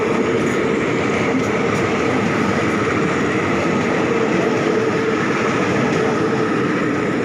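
Continuous loud rumble and roar of a Thai ordinary passenger train, number 211, running on rails, steady throughout with a faint rhythmic rattle.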